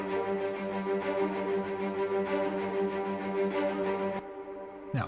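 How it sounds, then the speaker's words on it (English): Orchestral strings patch layering cellos, violas and violins, heard as a sustained, rich chord that swells softly. It plays quietly on its own and then cuts off abruptly near the end. "It's sort of like cellos, violas, and violins"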